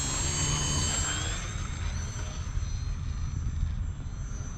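A radio-controlled EPP foam model plane flies at a park field, giving a steady electric motor whine with a faint high tone that drifts over a low rumble of outdoor air. No one speaks.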